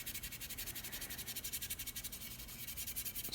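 Rapid rhythmic scrubbing of rust off a blued gun bayonet, a steady back-and-forth rasp with no talking.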